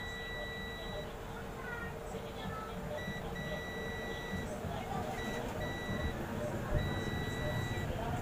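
A buzzer on a circuit under electronics troubleshooting sounds in repeated short, high electronic beeps at an uneven rhythm. The beeps sit over a steady noisy hum, and faint talk can be heard in the background.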